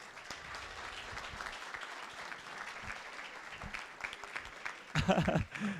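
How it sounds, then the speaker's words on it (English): An audience at a community talk applauds the organizers, a steady wash of clapping for about five seconds, then a voice and louder sounds come in near the end. "one more round of applause for them"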